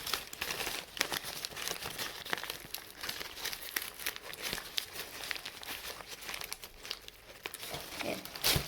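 Strong packing tape being pulled and torn off a mailed plant package, continuous close crinkling, rustling and ripping with frequent sharp peaks throughout, no talk.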